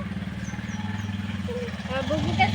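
A motorcycle pulls up with a low, rhythmic engine putter thumping close by, and voices chatter over it as it arrives.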